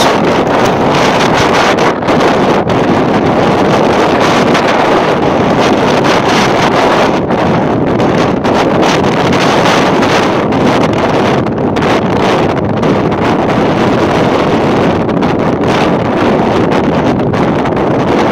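Loud, steady wind on Iceland's south coast by the Atlantic roars and buffets the microphone for the whole stretch, a harsh continuous rush with no voices.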